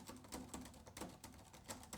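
Keys on an ACEMAGIC AX15 budget laptop keyboard are mashed in quick irregular bursts, a close series of sharp clacky taps with deep key travel and no voices.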